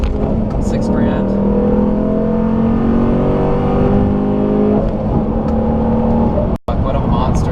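A car with a newly installed cam launches and accelerates hard through the gears, the engine revving loudly and rising in pitch to a high-rpm shift near six grand, with someone talking over the roar.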